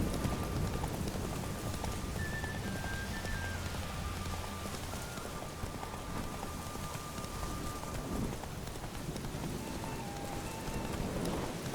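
Roach the horse galloping in The Witcher 3: Wild Hunt, rhythmic hoofbeats under steady rain and wind with faint background music, fairly quiet and continuous.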